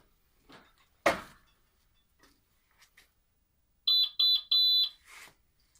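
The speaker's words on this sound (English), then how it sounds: "It's already beeped. It's telling you that it's ready." A K20S heat press gives three quick electronic beeps in a row, loud and close, after a brief thud and some faint handling noise; a short fourth burst follows.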